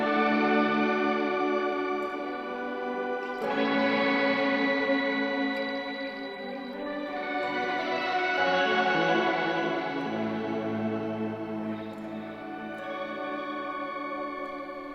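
A Chase Bliss Lost and Found multi-effects pedal running its octave-up effect, giving a sustained, shimmering pitched tone that swells and shifts chords steadily with no talking over it.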